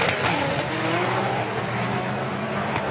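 Race cars, a Nissan Skyline and a Holden Commodore, run on a time attack track with a sustained engine roar at moderate distance.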